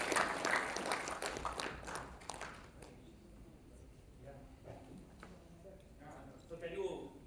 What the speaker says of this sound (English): Can we have a big round of applause for all the gentlemen over here?